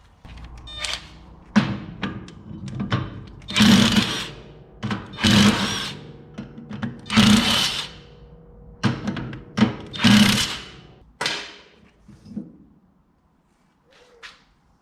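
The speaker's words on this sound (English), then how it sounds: "I'll just undo those bolts and the disc will come straight off the hub then" A power tool, likely an impact driver or drill, undoes bolts holding a TVR Vixen brake disc to the hub, in several short loud bursts separated by pauses and a few clunks, close by and with no talking.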